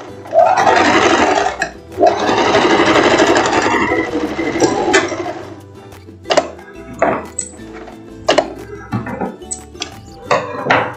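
A sewing machine stitches a straight finishing seam on a short lace dress, giving a loud, dense whirring run for several seconds, then gives way to scattered clicks and short mechanical taps.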